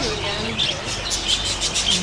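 Pet budgies chirp in quick, bright bursts, a pair of blue birds trading high tweets and squawks close by, with soft chatter running underneath.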